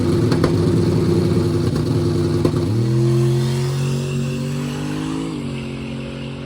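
A Chevy truck makes a drag racing pass down the eighth mile, its engine loud and close. A hard, steady roar holds for the first few seconds, then drops into a lower drone and pitches down again as it pulls away.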